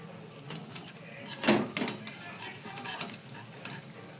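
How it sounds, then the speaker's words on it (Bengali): Oil sizzles softly around lentil dumplings deep-frying over medium heat, broken by a few scraping stirs and clinks; no one speaks. "দিয়ে মাঝারি আঁচে আস্তে আস্তে করে ভাজতে হবে, ব্রাউন কালার করে"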